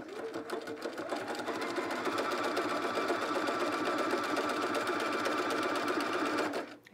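A sewing machine stitches fabric for a dress, running in one continuous close whir for about six and a half seconds before stopping abruptly.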